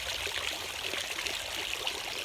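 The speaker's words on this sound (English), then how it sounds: "I am out in the garden and I found this beautiful fountain" Water from a garden fountain splashes and trickles in a constant, bright, close stream with no other sounds.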